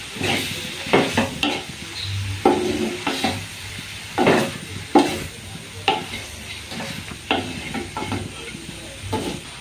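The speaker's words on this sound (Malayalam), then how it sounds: "എല്ലാം കൂടി നല്ലതുപോലെ മിക്സ് ചെയ്തിട്ടുണ്ട്" Prawns sizzle and hiss in a hot pan for prawn roast with chopped onion while a spatula scrapes and stirs them in repeated strokes, close up and steady.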